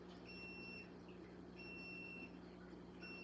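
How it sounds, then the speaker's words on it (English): A reef aquarium auto top-off unit's faint, high-pitched electronic alarm beeps in repeated long tones over a low steady hum. "you hear the alarm? The new ATO."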